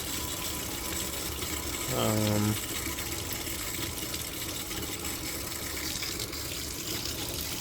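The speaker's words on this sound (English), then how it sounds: "This is hot water." Steady broadband hiss of hot water running from a tap in a box van, continuous throughout, with a brief tonal whine partway through.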